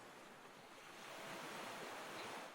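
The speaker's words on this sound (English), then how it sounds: "the sound of the waves against the shore" Waves wash against a shoreline in a steady, soft broadband rush that swells slightly louder toward the end, with no voices.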